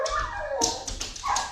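An indoor dog lets out a run of yips and whimpering barks, close and fairly loud, several short cries strung together over about a second and a half.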